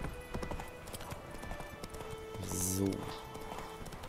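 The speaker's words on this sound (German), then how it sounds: "Jetzt reiten wir mal hier an der Küste lang." Horse hooves clop in a steady gait while riding along a riverbank shore in the video game The Witcher 3, with a brief whinny-like sound midway and someone talking over it.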